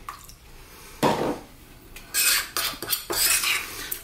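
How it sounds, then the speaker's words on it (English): Spice paste for Indian fish fry mixed in a bowl, with bursts of wet scraping and clinking of a spoon against the bowl between quieter pauses, close up and without talk. "We're just simply going to mix this around."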